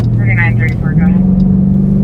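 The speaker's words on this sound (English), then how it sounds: "You hear that bike coming from a mile away, though." A motorcycle coming down the road toward a patrol car, its engine a steady low drone that rises in pitch midway, heard close and loud with people talking over it.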